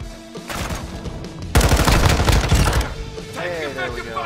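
Rapid automatic gunfire in a video game, a dense burst of fast shots in the middle of the stretch with quieter firing before and after, up close and loud.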